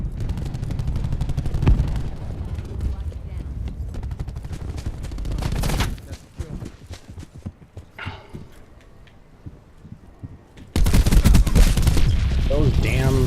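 Bursts of submachine gun fire ring out in Call of Duty: Black Ops multiplayer, with loud rapid volleys at the start and end, a quieter gap in between, and a player talking over the game sounds.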